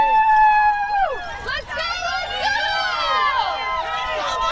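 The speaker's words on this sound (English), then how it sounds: "Katie fires up the crowd a little bit." A race crowd cheers and whoops as a runner fires them up, with loud, overlapping shouts and voices rising and falling in a lively, sustained roar of nearby spectators.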